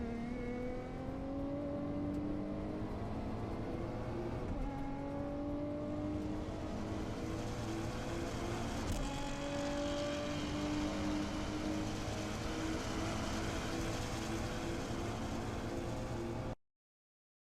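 A Nissan GTR race car engine drones through a lap of Tokachi in the Assetto Corsa racing game, with continuous loud revving that rises and falls through gear changes, no voices over it.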